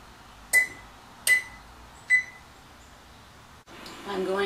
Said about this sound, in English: I'm going to heat my oven to 450 degrees.